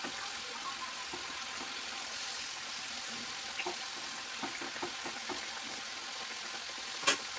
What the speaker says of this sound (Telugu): ఫ్రై అవుతుంది ఫ్రెండ్స్